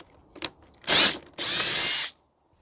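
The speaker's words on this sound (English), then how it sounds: "Don't even let the weight of the drill do it." A power drill bores into a 50cc scooter's plastic headlight housing in two short, whirring bursts, the second longer and steadier, close up, with a faint tap beforehand and silence afterward.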